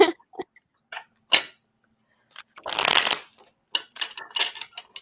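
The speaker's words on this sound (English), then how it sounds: "Marlena and I are going to shuffle our cards right now." A deck of cards being shuffled by hand, heard as irregular rustling and snapping bursts with short pauses between them. No voices accompany the shuffling.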